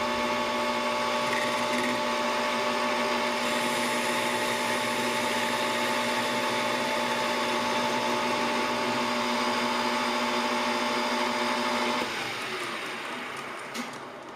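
A metal lathe faces off a workpiece for a desktop gyroscope build. The machine hums loudly and evenly with a steady whine and cutting noise, then quiets and winds down near the end.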